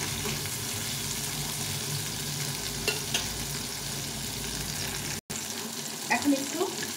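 A rohu fish tail fries in hot oil, giving a steady close sizzle that runs unbroken for several seconds, with a brief dropout near the end followed by a few scraping clinks.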